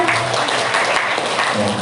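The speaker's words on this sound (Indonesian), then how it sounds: "tepuk tangan buat kita semua" Applause from participants at a Quran recitation training session, steady clapping from a group filling the whole stretch, with a voice speaking over it.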